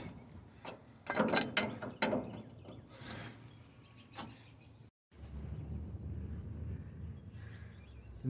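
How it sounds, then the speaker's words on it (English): A wrench ratchets against the nut of a rear shock absorber as it is broken loose, giving repeated close mechanical clicking strokes, a brief pause, then a steady grinding rattle. "I got my wrenches on here. Just gonna loosen it up"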